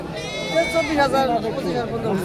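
A large goat at a livestock market in Tangail gives short, wavering bleats close by, mixed in with people talking nearby.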